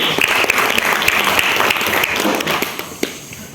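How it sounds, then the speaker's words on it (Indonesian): Applause for a quiz team at a school quiz competition final, a burst of dense crowd clapping that carries on steadily before fading slightly. "Tepuk tangan untuk revisi."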